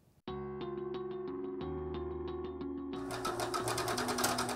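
A sewing machine stitching fabric runs steadily with a quick, regular stitching rhythm, then turns into a louder, harsher rattle near the end.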